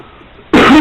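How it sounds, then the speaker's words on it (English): After a near-silent moment, a loud, harsh cough bursts in, heavily distorted and crackly, filling the end of the clip. "Distorted coughing."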